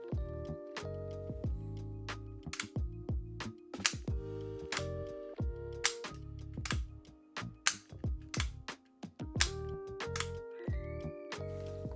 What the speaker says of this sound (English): And then they said that the switch does not reliably flip up the trimmer.